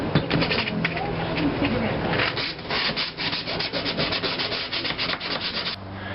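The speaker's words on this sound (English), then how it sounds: "Pull out the emery cloth because I don't want any sharp edges here." Steady back-and-forth abrasive rubbing, a quick rhythmic scratching of emery cloth against metal edges of a homemade go-kart fender, close and continuous.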